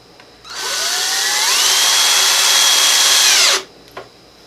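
A power drill drives a deck screw into wood in one continuous burst of about three seconds, its whine rising in pitch as it spins up and then dropping off sharply as it stops, close and loud.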